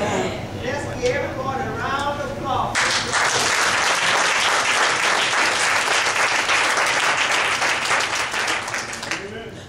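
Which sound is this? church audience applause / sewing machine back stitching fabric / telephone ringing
church audience applause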